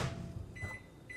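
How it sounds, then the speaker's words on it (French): A microwave oven hums steadily and faintly in a quiet kitchen, with a couple of soft high electronic tones near the end and no speech. "Si je le mets au micro-ondes pendant 10 secondes,"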